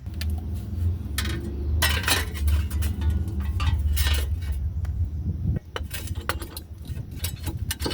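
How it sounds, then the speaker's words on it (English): Wheel bearing on a 2015 Dodge Durango 3.6L being guided onto the splined CV axle and pushed in during a steering knuckle replacement, giving sharp metallic clinks and scrapes in an irregular burst, close and fairly loud, with no talking. "guide your wheel bearing up here and get it around these splines on this CV axle"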